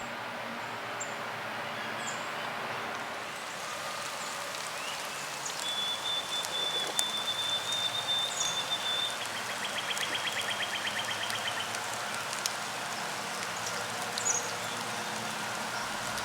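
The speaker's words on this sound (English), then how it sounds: "About then, the rain started" Steady, soft rainfall patters continuously outdoors, with faint bird chirps and scattered drips over a constant wash of rain.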